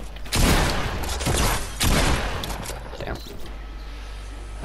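Bursts of gunfire from a Fortnite match, several loud rapid fusillades across a few seconds that fade into lighter game noise, with a voice talking over parts of the action.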